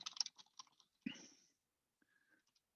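Quiet, quick clicks on a computer keyboard come in a short irregular run, then a single louder tap and a few faint keystrokes after a pause.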